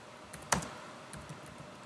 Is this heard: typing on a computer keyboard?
yes